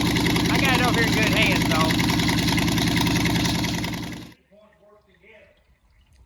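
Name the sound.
newly built Ford 289 engine starting up and running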